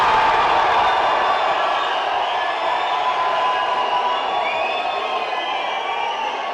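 Fans in a large crowd cheer loudly, a dense, continuous roar of voices with scattered whoops, holding steady and then easing slightly toward the end.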